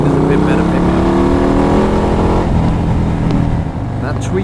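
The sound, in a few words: Harley-Davidson Low Rider S motorcycle engine accelerating in road mode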